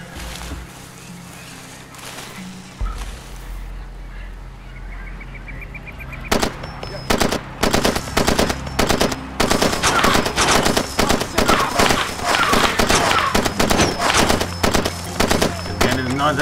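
Gunfire firefight in the video game Far Cry 2: after a quieter opening, dense bursts of automatic fire and single shots crack loud and close from about six seconds on, with a voice talking underneath.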